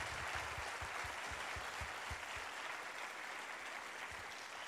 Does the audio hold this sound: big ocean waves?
no